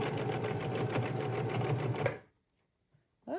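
A sewing machine runs steadily, stitching fabric drink coasters for about two seconds, then stops abruptly. A short, soft mechanical sound follows near the end, close and clear with no talking.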